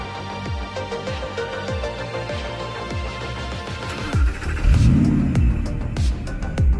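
A 2014 Audi R8 supercar drives in Canadian snow, its engine running through repeated rising rev sweeps that build to a louder, deep surge of acceleration close by, with no talk.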